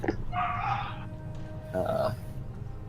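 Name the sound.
dog barking in the background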